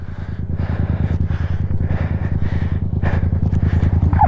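A motorcycle engine running steadily nearby, a low rhythmic idle-like putter with a slight rise in intensity toward the end, no talk over it.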